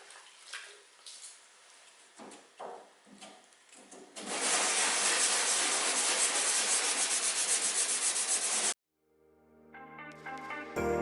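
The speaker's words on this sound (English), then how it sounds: "I'm going to use 400 grit, wet and dry, on a small block to block sand it all flat" Dried dolphin glaze on a 1973 VW campervan being block sanded flat with 400 grit wet and dry paper, first in short scattered strokes, then a loud, sustained rhythmic rasp of back-and-forth sanding that stops abruptly.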